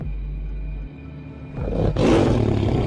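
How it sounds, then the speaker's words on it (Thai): A tiger growls and roars in a 3D animated ghost story. A low rumbling growl gives way to a loud, rising roar that grows and holds strongly to the end, with no voices. "เสือเพนตัวเขืองที่กำลังขู่คำราม"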